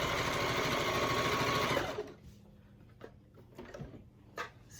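A Juki sewing machine stitches in a loud, fast, buzzing run for about two seconds, then stops abruptly with the needle down, leaving quieter clicks and fabric handling up close, with no talking.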